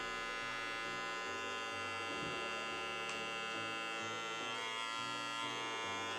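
A realme RMH2016 electric trimmer runs close up with a steady buzzing hum, its pitch shifting slightly a few times as it is handled, with no talking over it.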